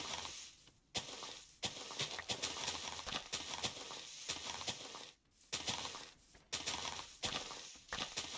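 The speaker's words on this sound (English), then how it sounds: "But the horse we'll bring back home with us." Horse hooves in the block-building game Minecraft clop on the ground in a steady, fairly loud run of sharp hits, with a few short pauses between bursts and no voices.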